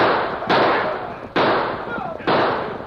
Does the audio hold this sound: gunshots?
yes